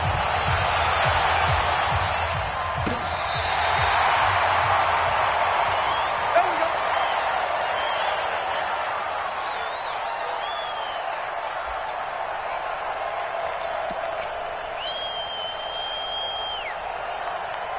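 A Baltimore stadium crowd in a video game football broadcast of the Ravens against the Cincinnati Bengals keeps up a steady, distant roar of approval throughout, with a commentator talking over it.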